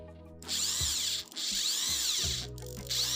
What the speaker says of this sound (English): I connected a drill driver to be sure and grind the celandine plants.